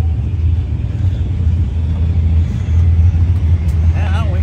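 Funny car launching down a drag racing strip, a loud sustained engine rumble close by with a voice talking over it.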